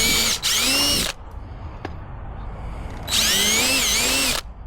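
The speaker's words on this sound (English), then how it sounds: "grab a 3/16 drill bit and drill the holes you want to use for mounting" A power drill with a 3/16 bit bores into the plastic housing of a Tesla Wall Charger in two loud, close bursts, its whine rising as it spins up, with a quiet pause between.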